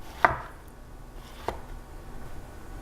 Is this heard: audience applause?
no